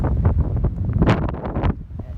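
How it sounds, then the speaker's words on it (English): Gusty New Mexico wind buffets the microphone in rough, uneven bursts, loud and close, with no voices. "But now it's windy."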